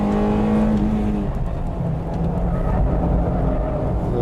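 A Honda Type R's VTEC engine revs hard on a racetrack. The loud, sustained high-pitched wail sits close and carries a steady engine tone throughout, with no talking over it.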